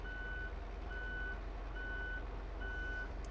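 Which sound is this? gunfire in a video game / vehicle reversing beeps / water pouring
vehicle reversing beeps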